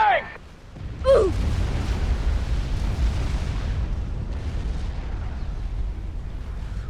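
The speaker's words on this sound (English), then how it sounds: "Tactical nuke incoming!" A tactical nuke in the real-time strategy game Supreme Commander detonates with a short rising whistle, then a deep rolling roar that sustains for several seconds.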